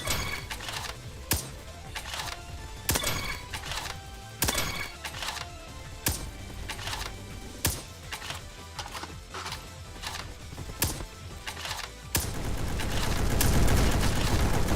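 In Roblox Bad Business, AWP sniper shots ring out as sharp, loud single cracks spaced about a second apart over steady game noise, ending in a swelling roar.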